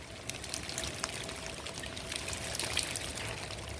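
Summer rain mixed with hail falls steadily in a constant wash of patter, scattered sharper ticks rising from it, and no voices.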